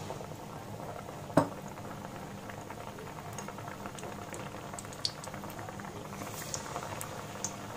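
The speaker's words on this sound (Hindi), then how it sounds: "एक बारी में जितना आएगा उतना हम पकोड़े एक साथ फ्राई कर लेंगे" Kuttu (buckwheat) flour and potato pakoras deep-fry in hot oil over a low flame, giving a steady, dense bubbling with a sharp clatter near the start and a few light clinks later.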